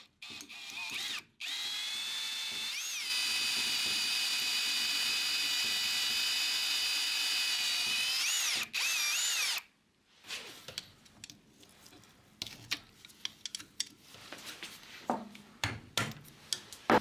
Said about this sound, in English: as the sensor is mostly made out of plastic, it shouldn't be too difficult to drill it out.